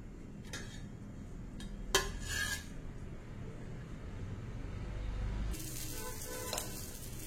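An adai lentil crepe cooks on a pan with a steady oil sizzle, broken by a few sharp metal clinks and scrapes as it is lifted off, with the hiss swelling near the end.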